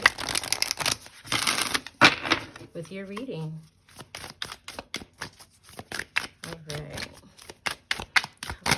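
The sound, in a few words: shuffling a deck of cards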